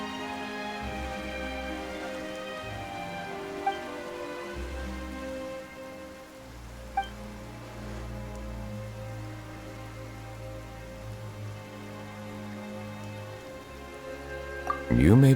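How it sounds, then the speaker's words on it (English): Rain falls in the video game Genshin Impact as a soft, steady hiss of drops, heard beneath sustained background music with a few faint clicks. "Why is it raining all of a sudden?"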